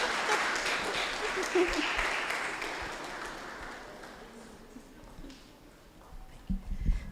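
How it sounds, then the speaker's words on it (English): Audience applause at a university public lecture, a dense wash of clapping that gradually fades over several seconds before a voice begins speaking near the end. "Let's give her a round of applause."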